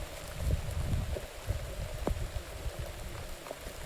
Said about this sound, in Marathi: पाऊस पडतोय, ते बघू शकताय